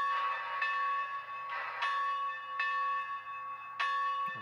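Bell from the sound decoder of a Bachmann On30 Baldwin 2-4-4-2 steam locomotive model, ringing about once a second in steady, evenly spaced strokes with a lingering metallic tone, moderately loud and alone.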